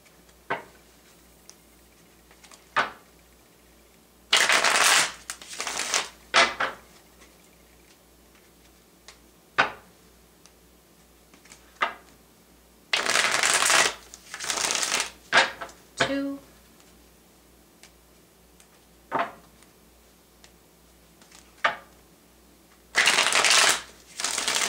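Several bursts of tarot card shuffling, each a few seconds long with quiet gaps between, plus scattered light ticks and taps from handling cards.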